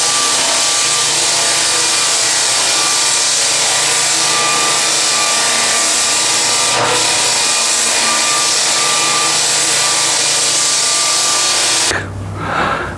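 Floor sander with an 8-inch drum working an oak floor, a loud continuous motor whine and abrasive grinding that holds steady, then drops away near the end.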